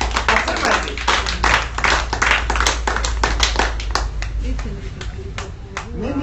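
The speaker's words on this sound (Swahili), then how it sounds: "hebu tumshukuru Mungu kwa makofi" A Swahili-speaking Bible study congregation claps in praise, a steady run of sharp, close handclaps in a quick rhythm lasting several seconds, with voices faintly underneath.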